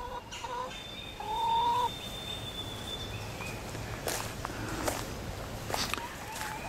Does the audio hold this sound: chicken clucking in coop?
yes